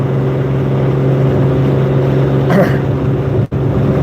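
Loud Volkswagen engine with an unrepaired muffler, a steady close droning rumble with a brief surge partway through and a short dropout near the end, no talking.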